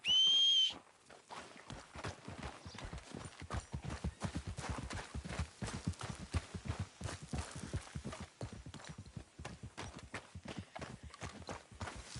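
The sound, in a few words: horse hooves in a video game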